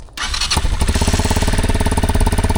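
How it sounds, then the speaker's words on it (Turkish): An X-Trame 200 motorcycle engine fires up after a brief quiet moment and settles into a loud, steady, throbbing exhaust rumble close by. "Hemen size bir egzoz sesi de dinleteyim."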